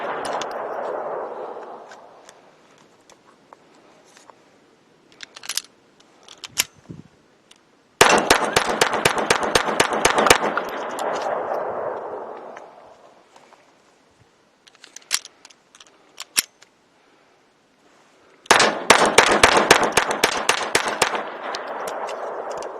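A Ruger LCP 2 .22 pistol fires Federal Champion 40-grain rounds in two rapid bursts of sharp, loud cracks, with a few scattered single shots between them and quieter handling noise in the gaps.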